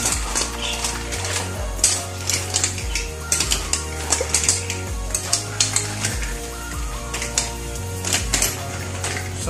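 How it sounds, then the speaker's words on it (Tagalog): Sautéed mussels (ginisang tahong) being stirred in a pan, with a continuous close sizzle broken by repeated scraping and clinks of the utensil against the pan, over a steady low hum. "haluin ko lang para makita nyo"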